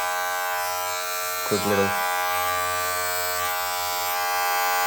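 Magic Clip hair clippers fitted with a gold ceramic blade, a steady close electric buzz running throughout with a brief change in tone midway as a few words are spoken over it.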